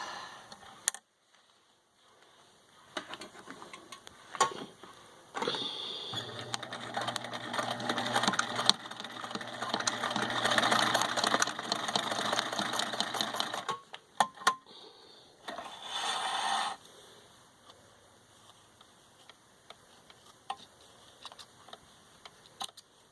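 A sewing machine stitches fabric face masks in a long steady whirring run of about eight seconds, with short bursts before and after, and brief ticks and clicks in the quieter gaps.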